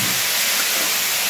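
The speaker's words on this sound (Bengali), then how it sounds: "কুমড়ো আলু একটু ভালো করে একটু ভাজা হোক" Pumpkin and potato pieces frying in oil, a loud, near sizzle that hisses steadily with fine crackling and no pause.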